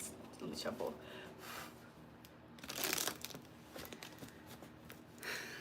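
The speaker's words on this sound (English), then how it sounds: "Let me shuffle." Tarot cards are shuffled in quick riffling bursts, with soft papery rustles and a louder flurry midway, heard close up against a faint room background.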